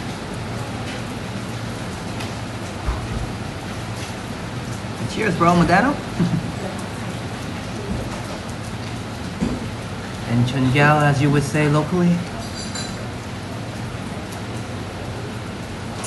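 Rain falling at Royal Phuket Marina in Thailand, a continuous broad hiss throughout, with someone speaking in two short stretches over it.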